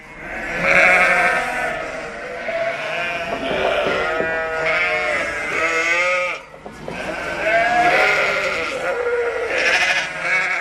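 A flock of sheep bleats repeatedly in loud, overlapping calls on a livestock farm where guardian dogs live with the ewes during lambing. The bleats come close and continuous with no voices.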